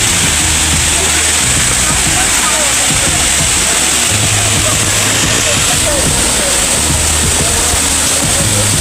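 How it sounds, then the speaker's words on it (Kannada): Water rushing down over a big rock at Jeri Falls near Chikkamagaluru, a loud, continuous roar that fills every moment with dense, unbroken noise. "ಜೆರಿ ಫಾಲ್ಸಲ್ಲಿ ನೀರು ಹರಿತಿರೋ ಸೌಂಡು"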